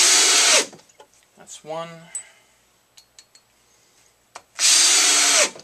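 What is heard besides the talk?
power drill driving screws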